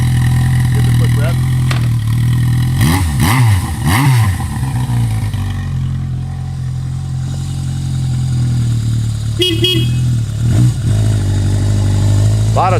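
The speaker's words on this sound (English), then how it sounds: "Give it a quick rev." Four-cylinder engine of a 1979 Yamaha XS1100 motorcycle idling steadily up close, then blipped in two quick revs that rise and fall, with a further short throttle blip later over the idle.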